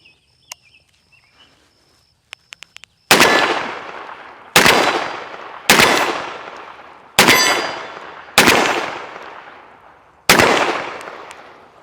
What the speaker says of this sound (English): So we've got 6 rounds of buckshot loaded up.